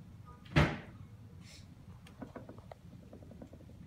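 One sharp wooden knock of a drawer or cupboard being pushed shut in a home during a family dinner, followed by faint scattered clinks and rustles in a quiet room.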